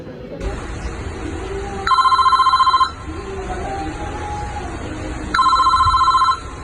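A telephone rings in two long electronic bursts about three seconds apart, loud and close, with faint talk and room noise in between.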